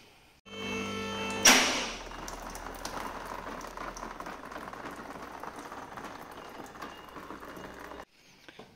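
Engine coolant draining from detached EGR cooler hoses of a VW Golf 7 EA288 TDI into a drip pan, a steady spattering, bubbling trickle after a sharp start, continuous and close, then stopping abruptly.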